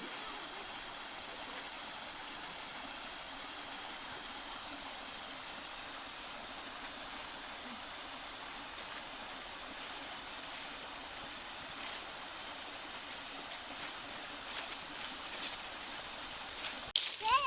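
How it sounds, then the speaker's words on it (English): Steady broadband rush of a waterfall and stream on a hiking trail, continuous and fairly even throughout, with a faint bump of noise near the end. "listening to the sounds of the waterfalls"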